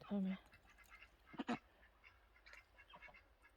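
Ducks being raised abroad give a few quacks, a loud one at the start and a pair of short calls a moment later, over faint background with occasional voices.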